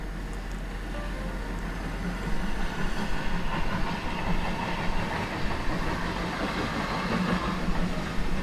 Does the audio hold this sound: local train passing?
yes